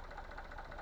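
A 75-horsepower New Holland tractor idles nearby with a low, steady engine rumble and faint rhythmic knock, unbroken through a brief moment with no voices.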